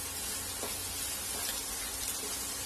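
Vada pav filling of chopped coriander and spices sautéing in a pan, a soft, steady sizzle and faint crackle heard quietly and close with no talk.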